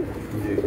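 Breeder pigeons on a rooftop in Gujranwala coo softly and close by, a low, rolling, continuous murmur with no other sounds.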